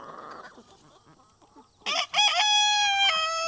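A rooster crows loudly and close by, one long drawn-out call after some quiet clucking and rustling.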